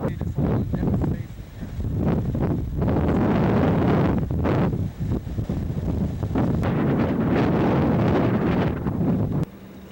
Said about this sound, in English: Wind here right now is 50.